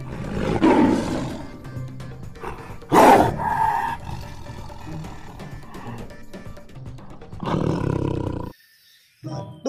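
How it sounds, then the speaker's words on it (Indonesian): Loud tiger roars burst out in a couple of strong, raspy blasts, with lower rumbling growls between them and a final roar near the end. "ini harimau"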